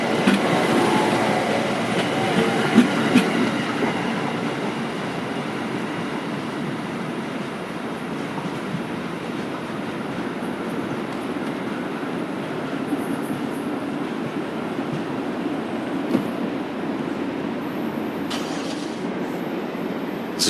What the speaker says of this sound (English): It's a train on the Philly sub